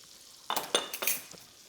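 A spoon scrapes through flour being worked into melted butter in a pan for a croque madame roux, three or four quick close strokes with a soft sizzle underneath, no voices.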